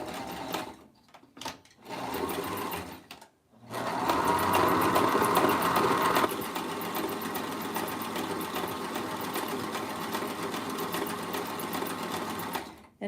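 A sewing machine stitches lace onto lingerie, starting with short stop-start bursts and then running in a long, steady, fast mechanical chatter up close.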